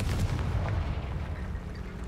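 The Confringo spell from the Hogwarts Legacy video game explodes in a single muffled boom followed by a short, rumbling decay, with no voice over it.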